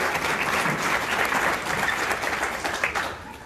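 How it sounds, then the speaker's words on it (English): A crowd at a town strategic plan open house applauds steadily, a dense, loud wash of clapping that holds for several seconds before tapering slightly at the end. "nice round of applause"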